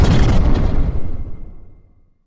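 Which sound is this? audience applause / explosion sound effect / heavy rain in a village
explosion sound effect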